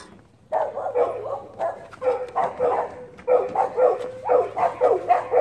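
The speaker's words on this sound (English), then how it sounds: "Yeah, dogs and dogs barking." Several dogs bark repeatedly and close by, rapid overlapping woofs in an irregular rhythm that continues without pause.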